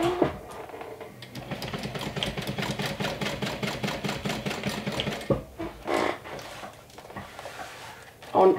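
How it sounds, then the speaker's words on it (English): A sewing machine stitches darts on a crossbody bag, a fast rhythmic mechanical whirr running for several seconds and then stopping, with brief handling noises after. "we're going to stitch with a 1/2 inch seam allowance."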